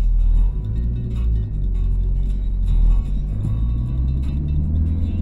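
Renault 10 car driving and turning, a steady close engine rumble heard from inside the cabin with small rises and falls in pitch, and no talking over it.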